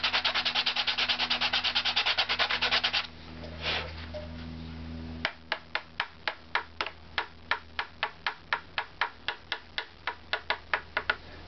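A wooden top plate is sanded by hand with sandpaper: a fast, steady scratching rub at first, a short pause, then a series of evenly spaced separate strokes, close and fairly loud with no talking.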